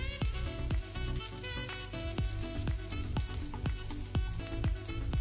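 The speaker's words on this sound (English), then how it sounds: "you can definitely hear it sizzle" A steady crackling sizzle of buttered bread frying in a medium-hot pan for a grilled cheese sandwich, with scattered popping spatters over a constant hiss.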